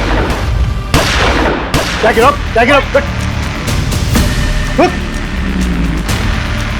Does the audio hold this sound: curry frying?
no